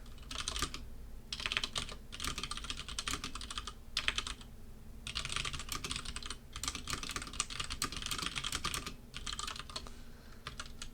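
Rapid clicking of computer keyboard typing comes in several bursts separated by short pauses, close and fairly quiet.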